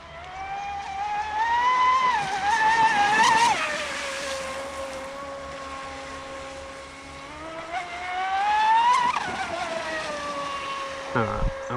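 A radio-controlled boat's motor whines loud and continuous across the water, its pitch climbing and falling as the throttle is pushed and eased, with a sharp rise near the end.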